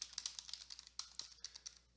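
Someone types on a computer keyboard while filling in online form fields, a quick irregular run of light key clicks, close and quiet with no voices.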